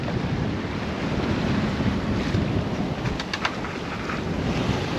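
Strong wind of about 20 to 22 knots roars across the microphone over a rough sea while under sail on a crossing from Morocco to Spain, a steady loud broadband rush with surf and spray, no one talking.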